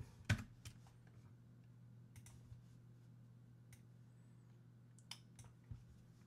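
Keys tapped on a computer keyboard to type a name in music production software, a few soft, sparse clicks close by over a steady low electronic hum.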